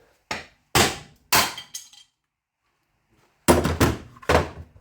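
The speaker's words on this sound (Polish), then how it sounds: "Rozbijemy to młotkiem." Heavy hammer blows smash an ABS pump's electronic housing, several sharp, close impacts in quick succession, a pause, then another rapid burst of strikes.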